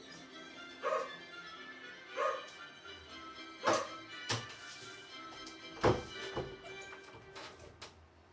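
A dog barks indoors near a door, sharp woofs and yips spaced out at irregular intervals, moderately close in a quiet room.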